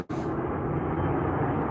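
An airplane passes overhead near an outdoor pool as a loud, sustained broadband roar that holds steady from a sharp start to the end, with no voices.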